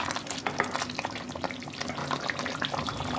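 A spoon stirs mutton and potato curry with masala in a pan, giving a continuous wet, sizzling scrape of moderate loudness with no voices.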